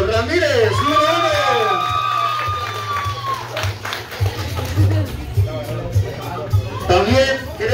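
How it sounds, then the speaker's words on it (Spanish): A crowd at a soccer club's anniversary player presentation in Bridgeton, NJ applauds and cheers for its goalkeeper, with whoops and shouts over steady clapping. An announcer talks over the crowd on an amplified sound system. "Un aplauso también para nuestro portero"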